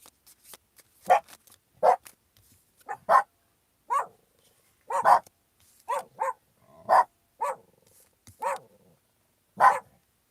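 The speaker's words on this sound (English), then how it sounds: "please stop barking" A dog barks repeatedly and nearby, with about a dozen sharp barks spaced roughly a second apart over quiet background.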